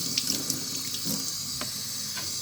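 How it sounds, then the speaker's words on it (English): Water runs steadily from a sink tap while hands are washed beneath it, a continuous close splashing hiss with small intermittent splashes. "for the first step, wash your filthy hands"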